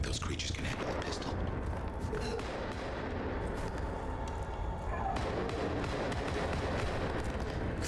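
Dense, continuous gunfire in Vampire: The Masquerade – Bloodlines 2 with heavy rumbling booms and thuds, loud and sustained throughout, with busy noise layered underneath.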